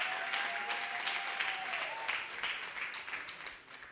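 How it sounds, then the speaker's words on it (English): An audience at a national youth dialogue on reforms in The Gambia applauds the moderator with steady, dense clapping throughout, a faint tonal whine running beneath for the first two seconds, before the applause tapers slightly at the end. "Give her a big round of applause"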